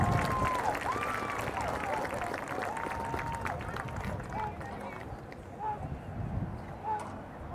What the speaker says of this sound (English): Please give him a round of applause for all those times.